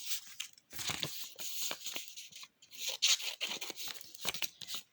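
Blunt-tipped children's scissors snip through paper in a run of short, crisp cuts with brief pauses, some crinkling of the sheet between snips, close and fairly quiet.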